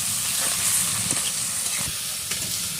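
Country chicken and onions fry in a pot over a village wood-fired stove, a continuous loud hissing sizzle with faint crackles throughout.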